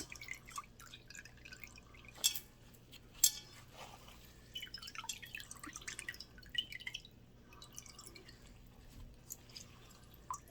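Fire cider liquid strains out of a mass of vegetables and herbs, with soft irregular drips and wet trickles over a quiet background, faint and close with no voices.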